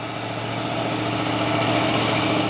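A CPO tanker truck's heavy diesel engine strains on an uphill climb, a loud, steady low-pitched drone with a rough, throbbing texture and no voices.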